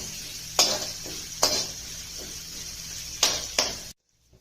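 Sliced onion fries in a pan with cashews and chilli for cauliflower fried rice, giving a close sizzle. Four sharp stirring scrapes break through before the sound cuts to near silence.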